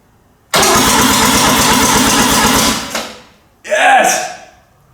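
A Mazda RX7's 12a rotary engine cranks over with a rapid rhythmic churn for a couple of seconds, stops, then briefly fires with a louder burst of revving, close up and with no talk.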